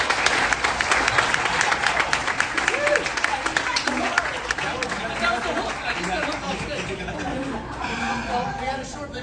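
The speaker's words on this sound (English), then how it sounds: "Let's have another round of applause for Patrick." Applause from an audience at a charity reception honoring Patrick Dempsey, with steady clapping and crowd chatter filling the room throughout, voices mixed in.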